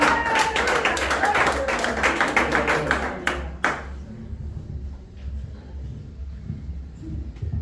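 Church congregation applauding, a dense burst of close, rapid hand claps for about three seconds, then a few scattered claps fading into quieter room sound with some voices.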